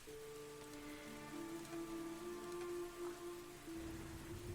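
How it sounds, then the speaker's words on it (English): Steady rain falling with a low rumble of thunder to the north, a soft, even patter over a fairly quiet backdrop with a steady tonal hum running through it. "The rain intensifies, and there is a rumble to the north."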